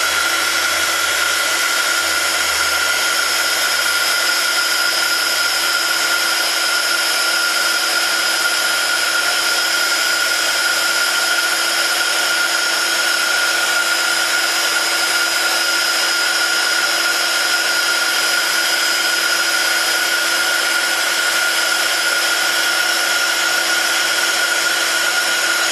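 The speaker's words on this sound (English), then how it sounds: "Grabbing my heat gun, I'm just going to heat emboss." A heat gun runs steadily while heat embossing a rubber-stamped image on cardstock, giving a constant loud whooshing blower drone with a fixed whine that holds unchanged throughout, with no talking.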